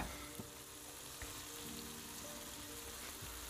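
Samsun-style menemen with eggs and kaşar cheese cooking slowly on a stove over low heat, giving a faint, steady sizzle and gentle frying crackle throughout, fairly quiet with no talking.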